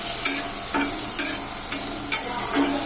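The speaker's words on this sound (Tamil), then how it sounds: "அதே மாதிரி தக்காளி வெங்காயத்தை ஃப்ரை பண்ணி எடுத்துக்கணும்" Tomatoes and onions fry in a pan while being stirred, a constant sizzling hiss broken by rhythmic scraping strokes of the spoon about every half second, close up, with no voices.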